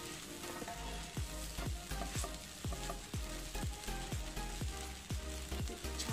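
Sabudana khichdi, a tapioca pearl dish, sizzles steadily in a pan while a spoon stirs it in regular scraping strokes, about two each second, close and clear, with no talking.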